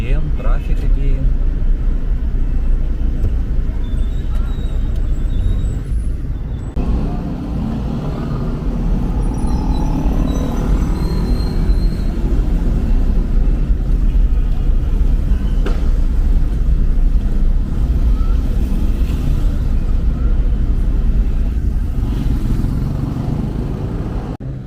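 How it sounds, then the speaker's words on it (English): Evening rush-hour traffic on a road in Mabalacat, Pampanga, Philippines, a steady loud rumble of cars, buses and motorcycles passing close by for about twenty-five seconds, engine drone broken by occasional brake hisses and honks. "Now 6 p.m. traffic again."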